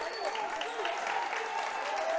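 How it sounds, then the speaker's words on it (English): A home crowd cheers and claps at a high school basketball game between Loyalsock and Tyrone, a continuous roar of applause and raised voices with a commentator talking over it. "the home crowd that's here are making a lot of noise"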